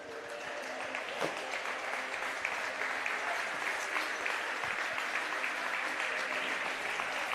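Crowd applause at a men's futsal championship final, Hertfordshire versus Loughborough, as players clap the supporters; continuous dense clapping carries through the arena, steady and moderately loud, with light voices mixed in.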